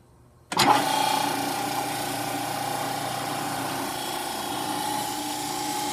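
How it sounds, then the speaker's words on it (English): A machine motor switches on abruptly after a brief quiet moment and settles into a steady, smooth, even hum with a faint whine, running continuously and close by. "turn the machine on for you so you can hear what the motor actually sounds like"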